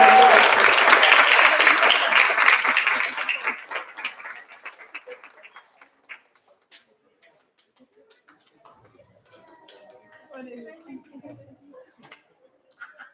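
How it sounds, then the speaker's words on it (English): Applause for distinguished scholars at a school district board meeting, dense at first and then thinning into scattered claps that fade out, with faint chatter and movement afterward. "let's have a round of applause"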